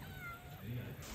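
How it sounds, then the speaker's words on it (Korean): At a winter backpacking campsite in minus 15 degree cold, a cat gives a faint, short meow in the background over low ambient noise. "고양이 천국이네."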